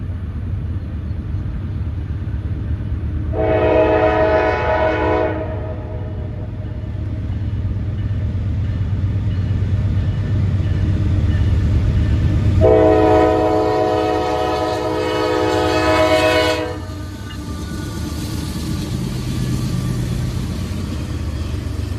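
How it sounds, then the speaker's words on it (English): Norfolk Southern GE AC44C6M heritage locomotive passing with a low steady rumble, sounding two loud horn blasts, a short one and then a longer sustained one. "This is the latest addition to the Heritage fleet and is an AC44C6M like so many locomotives on the Norfolk Southern lines nowadays."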